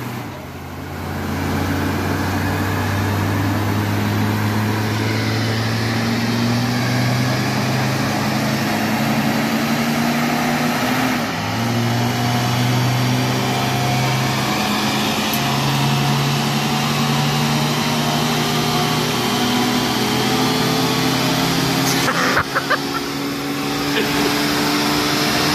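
A 1981 Mercury Capri's 200 inline six with a C4 automatic runs on a dyno, a steady loud engine drone with strong low harmonics holding for the whole stretch, briefly dipping and shifting pitch partway through, with no talking over it.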